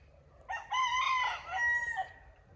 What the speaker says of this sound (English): That's that cock-a-doodle-doo.